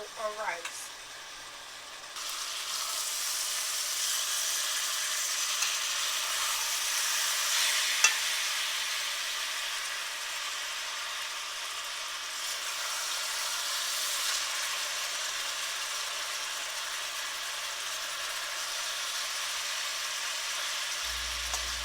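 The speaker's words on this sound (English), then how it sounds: "I am sauteing onions over top of these hamburger patties, which I call Salisbury steaks" Onions sautéing on top of hamburger patties for Salisbury steak, a steady loud sizzle from the frying pan that starts after a brief quieter moment and continues close up throughout.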